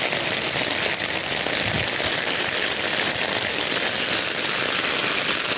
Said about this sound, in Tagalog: Sama niya itong kusog ng ulan, kanya kusog pagid ang hangin.